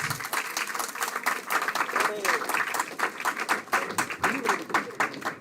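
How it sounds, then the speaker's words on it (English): Applause from a conference audience at a national sociology conference in a college hall, moderately loud dense clapping with a rhythmic, slightly uneven pulse, with faint voices mixed in. "Let me give a big round of applause."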